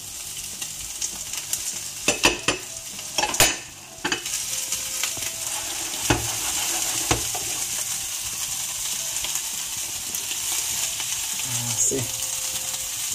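Beef shank goes into a frying pan and is stirred, giving a steady sizzle with scraping and clattering stirs, loudest in the first few seconds, with a brief spoken word.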